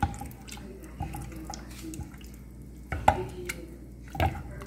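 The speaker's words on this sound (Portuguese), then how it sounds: "E vai mexer até dissolver todo o conteúdo, até misturar tudo e ferver." Cheese fondue with wine is stirred in a pan over low heat: wet, sloshing scrapes recur roughly once a second over a steady low hum, with a couple of sharper knocks against the pan.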